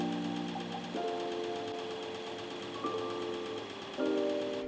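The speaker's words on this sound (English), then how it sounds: "Return the hoop to the machine and run the design over the center fabric." An embroidery machine stitches a design onto the center fabric of a pot trivet held in a hoop, a loud steady close-up whir with fast needle rhythm and brief pitch shifts as stitching changes.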